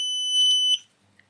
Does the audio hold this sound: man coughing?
no